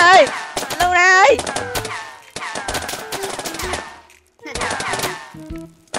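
Rapid bursts of video game gunfire in a PUBG-style match played in Minecraft, loud clattering volleys separated by short pauses, with excited voices talking over the shots.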